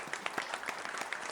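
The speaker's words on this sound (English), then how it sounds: "Can we have a huge round of applause for the Honorable Minister," An audience applauds the Honorable Minister at a directors' conclave ceremony, a steady burst of many hands clapping close and even throughout, with no voices over it.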